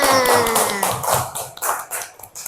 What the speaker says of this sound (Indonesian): Tepuk tangan dulu untuk Lina